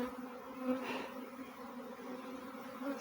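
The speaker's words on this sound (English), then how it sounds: "The bees flying all over my head, which is a good sign." A swarm of honeybees flies around overhead outdoors, a continuous soft, layered buzzing hum with individual bees drifting nearer and farther, fairly faint and steady throughout.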